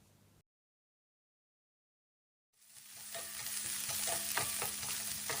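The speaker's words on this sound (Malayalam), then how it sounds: "അണ്ടിപ്പരിപ്പ് ഏകദേശം പകുതി മൂത്ത് വരുമ്പോഴേക്ക് തന്നെ നമുക്ക് ഇതിനകത്തേക്ക് കഴുകി വെച്ച ഒരു പിടി മുന്തിരിങ്ങ കൂടി ഇട്ട് കൊടുക്കാം" Cashews and raisins fry in hot oil and are stirred, giving a close, steady sizzle broken by scraping stir strokes after a short silence at the start, with no talk.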